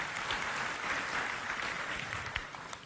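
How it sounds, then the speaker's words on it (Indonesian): Church congregation applauding during a sermon, a steady wash of clapping that sounds somewhat distant and roomy, holding level for a few seconds with no talk over it. "Kita berikan tepuk tangan bagi Tuhan kita saudara."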